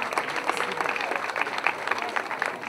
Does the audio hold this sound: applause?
yes